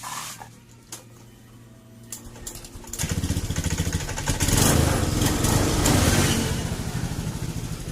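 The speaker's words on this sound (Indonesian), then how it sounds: "kita akan coba hidupkan dulu untuk motor ini" Fuel-injected Honda Beat scooter engine, one with a stutter on initial throttle, catching at about three seconds and then running steadily, loud and close, after a few faint clicks and low hum.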